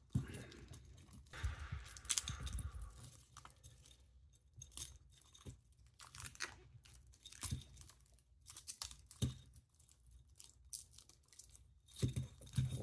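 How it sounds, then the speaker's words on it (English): Plastic packaging is torn and crinkled off a watch with a hollow bracelet, producing repeated rustling, crackling rips and crunches in uneven bursts, close by, with no talking. "got the plastic off finally"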